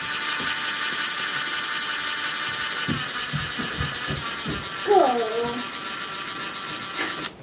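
A driver running screws with a T25 bit, the bit bent from a drop, while upgrading a Connex shipping container: steady mechanical whir with ratcheting clicks and a brief louder burst, under faint background talk.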